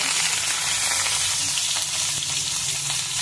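Tempering spices sizzle steadily in hot oil for bottle gourd chutney, a dense, continuous frying crackle that stays loud and even throughout with no talking.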